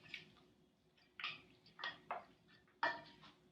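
Seasoning and black pepper get stirred into a mixture in a bowl, heard as a handful of separate clinks and scrapes of a utensil against the bowl, fairly quiet with pauses between strokes.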